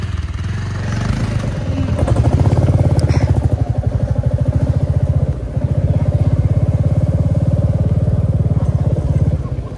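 A motorcycle rides along a village road in Gorkha, Nepal, its engine thrumming in a steady, loud, close rhythmic chug that builds after the first seconds and holds throughout.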